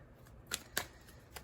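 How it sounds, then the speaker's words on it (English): Oracle or tarot cards are shuffled by hand in a quiet room, a few soft, brief riffling snaps at irregular intervals, close but faint. "let's shuffle our cards a little bit."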